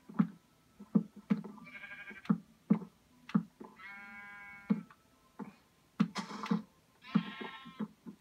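Sheep in the Minecraft video game bleat several times in short, buzzy calls, mixed with rhythmic low blocky footstep or digging thuds from the game, fairly close and with no talking.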